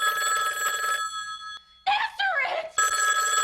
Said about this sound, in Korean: 악마에게 전화가 걸려옵니다.